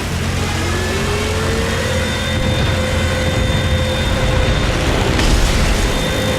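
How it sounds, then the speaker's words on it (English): A loud, continuous roaring engine of a Stuka dive bomber in War Thunder, with a long, rising siren-like wail from its landing-gear sirens running through it, joined by a rumbling burst near the end. "The Stuka was infamous for terrorizing its prey with a siren scream which generated from 2 propellers mounted on its landing gear"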